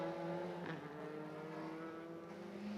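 The Seat Leon race car of Zeller Racing runs during free practice at Rustavi in 2017, heard faintly from a distance as a sustained engine drone with a brief rising swell.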